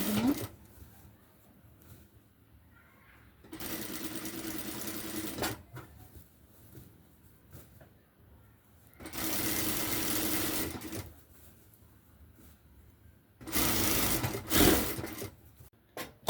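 A sewing machine stitches a handmade cloth bag in three separate bursts of steady whirring, each lasting a couple of seconds, with quiet pauses between them and no talking.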